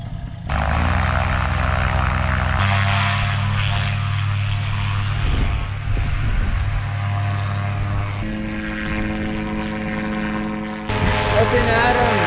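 A paramotor's engine and propeller drone steadily in flight, loud and close, with the pitch shifting as throttle changes, and a voice occasionally speaking beneath the engine noise.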